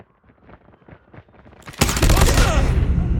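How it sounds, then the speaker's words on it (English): Sentry gun firing during a Call of Duty Mobile hardpoint match: soft distant pops at first, then a sudden loud, sustained burst of heavy automatic fire that dominates the rest. "Sentry gun deployed."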